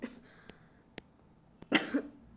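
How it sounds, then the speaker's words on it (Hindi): A person coughs after a fit of laughter: a few light clicks, then one or two harsh, close coughs near the end, with no talk. "हंसते हंसते खांसी आने लगती है"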